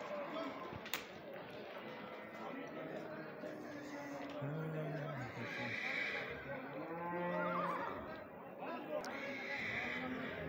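Horses at a busy horse market in Oqtepa, Bulung'ur district, Samarkand region, with a few short neighs and whinnies breaking through steady crowd chatter and nearby talking.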